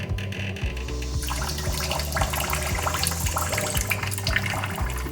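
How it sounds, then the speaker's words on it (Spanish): A thin stream of water runs from a barely opened lab tap, a steady soft trickle and splash that continues unbroken, with a faint low background hum beneath it. "la idea es abrir muy poquitico la llave, que sea solo una pequeña línea de agua"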